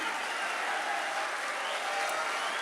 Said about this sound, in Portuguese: Aplaude todo mundo que está do seu lado. Aplaude com vontade.